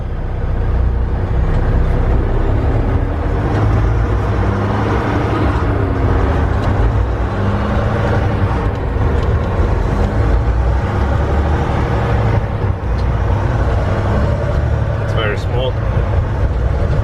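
A 2019 Volvo VNL 760 truck with 444k miles drives along, its steady low engine and road rumble continuous and loud throughout, with a brief higher whine near the end.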